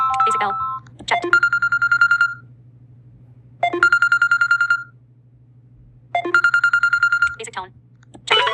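Samsung Basic Bell ringtone sounding three times, each a sharp rapid trill of ringing bell tones followed by a brief pause, loud and close with a constant low hum underneath.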